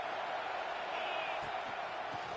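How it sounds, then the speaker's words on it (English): A football stadium crowd in Minnesota keeps up a steady, distant roar of cheering that fills the whole stretch without breaks. "This crowd knows when to bring it."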